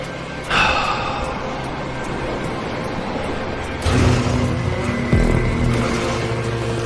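Race cars roaring through a Hotring race in GTA Online, a steady engine drone with a louder surge midway and shifting tones as cars pass.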